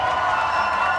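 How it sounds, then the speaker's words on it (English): A gaming-award-show crowd cheers and claps loudly in a brief burst of applause, close and continuous. "A big applause for everyone and for Pomfy."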